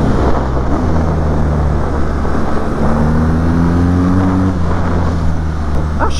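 A BMW R nineT motorcycle engine pulling at low revs, a deep steady drone whose pitch climbs gently in the middle, loud and close.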